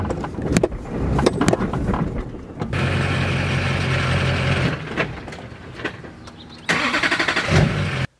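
A manual LB7 Duramax diesel truck with a 500 hp build drives on hills, its engine droning steadily at close range with a couple of gear-change dips and a surge near the end, no talk over it.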